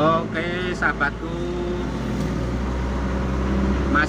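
Mitsubishi L300 van carrying a load on a village road in Kalibawang, Wonosobo, its engine droning steadily and near throughout, with someone talking over it in bursts.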